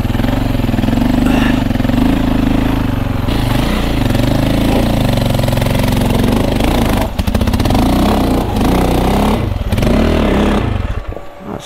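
A KTM 450 EXC dirt bike engine runs steadily on a single-track trail, a loud close drone that dips and surges with the throttle, with a few sharp clattering knocks near the end.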